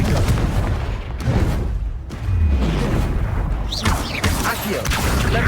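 Blasting spell explosions from the Confringo spell in the video game Hogwarts Legacy, a run of loud, booming impacts and crackling bursts that follow one another with short gaps in between.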